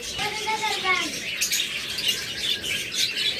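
Pet birds kept as a pair chirp and tweet in quick, bright bursts, fairly close, with a voice talking over the calls.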